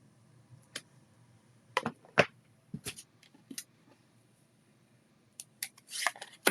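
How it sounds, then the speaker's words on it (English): Scissors cutting a bear shape out of paper, with several short snipping bursts spaced irregularly and a quicker cluster of cuts near the end, close and fairly quiet with no talk. "And watch me cut out a bear?"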